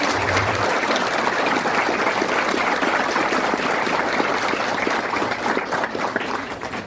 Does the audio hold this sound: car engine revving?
no